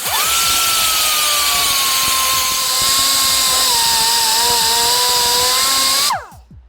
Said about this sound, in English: I need to come in here with the sanding tool and just relieve it just a little bit more.